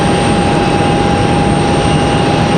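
An Aeromexico Embraer E190LR jet flies near Raleigh Durham International Airport, giving a loud, steady broadband engine roar with a constant whine, unbroken and without voices.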